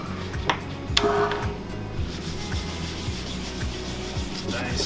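A floor sander running a 180 grit screen and maroon pad over a floor, giving a continuous abrasive rubbing drone with a rhythmic pulsing hum and a few sharp scrapes, close and loud with no talk.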